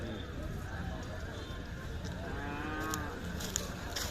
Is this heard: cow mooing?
yes